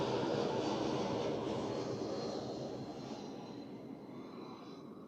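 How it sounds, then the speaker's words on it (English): An airliner touching down on runway 14 at Zurich Airport, a broad roaring engine rush that starts loud and close, then slowly fades as the aircraft rolls away. "And another butter smooth touchdown there"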